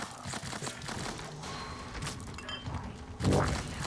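Automated turret gunfire in the sci-fi video game Prey, with fast rattling bursts of shots over a dense game soundscape, ending in a louder thudding impact.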